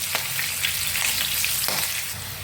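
Crushed garlic fries in oil for a festival avalakki chuda snack, giving a dense, continuous close sizzle with a few soft stirring clicks and no speech.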